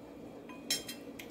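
A metal lid set onto a cooking pot of sweet potato stew with ribs and ham, a short clink followed by lighter rattles over a quiet background hum.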